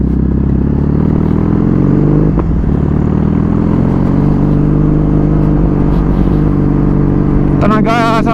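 A Kawasaki big retro-style motorcycle of about 50 HP on the move makes a loud, continuous engine drone with road and wind noise, and a brief higher-pitched tone near the end.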